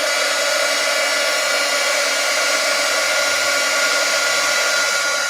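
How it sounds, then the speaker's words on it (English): A heat gun blasting hot air to soften glue gunk, a loud, steady, close roar of rushing air with a whining motor tone that holds unbroken throughout, with no talking. "I loosen all this gunk up with my heat gun"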